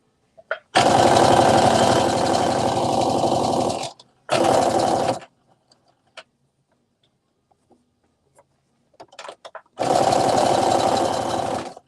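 A sewing machine stitching stretch fabric runs in three loud bursts of rapid mechanical whirring, with quiet pauses between them, heard close up with no talking.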